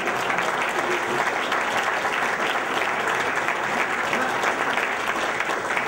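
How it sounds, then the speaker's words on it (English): A crowd claps steadily and densely for Mrs. Gratian at a restaurant opening in Sheffield, sustained applause at even loudness throughout with no talk over it. "give her a round of applause"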